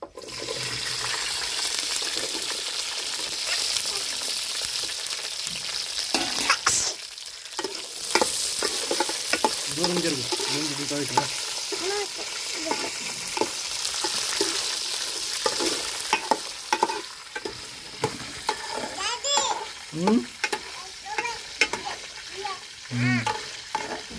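Green chillies frying in oil for a chutney, a steady close sizzle with stirring scrapes and clatters throughout, rising in patches, with no talk over it.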